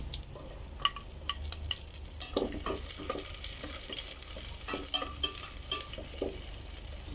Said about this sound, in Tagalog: Tapos kapag medyo mainit na, ilagay na natin yung bawang.